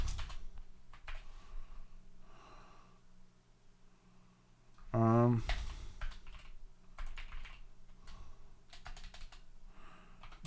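Typing on a computer keyboard, heard as soft, close, irregular key clicks throughout, with one louder burst of clatter midway and no speech.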